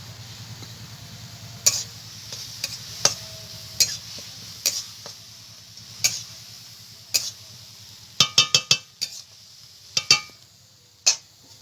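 Shrimp, already fried, is stirred into amli greens cooking in their own released water, with a steady low simmering hiss under a string of sharp clicks and scrapes from a utensil against the pan, some in quick bursts.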